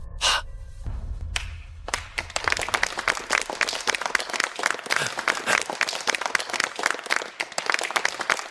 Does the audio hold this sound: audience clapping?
yes